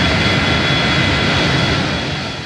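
Airliner jet engines spooling up during engine start, a loud, steady broadband roar filling the whole moment with no voices over it.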